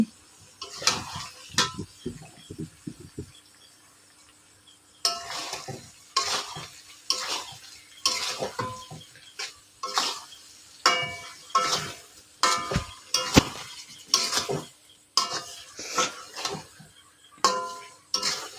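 Raw mango pickle cooking in a pan with panch phoron, stirred in repeated scraping strokes with a steady sizzle and clinks of utensil against pot, close and fairly loud, with no talking.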